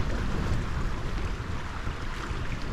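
Strong gusts roar against a tent pitched beside a mountain tarn in Snowdonia, a steady, loud, close rush of wind buffeting the fabric, with no voices.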